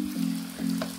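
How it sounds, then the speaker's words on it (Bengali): Garlic and ginger paste frying in oil for beef tripe bhuna makes a brief, steady sizzle under a constant low hum. "ভেজে নিব যেন রসুন আর আদার কাঁচা গন্ধটা চলে যায়"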